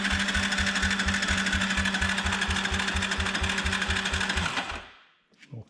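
A Honda TRX ATV engine turns over on its starter in a fast, even rhythmic chug with a whirring motor whine, steady for several seconds before cutting off abruptly into quiet.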